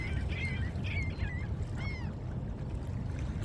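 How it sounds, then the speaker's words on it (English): Seagulls call at a sunny outdoor spot, with several short squawking cries in the first two seconds, moderately distant, over a steady rumble of wind or surf. "Seagulls don't want me here."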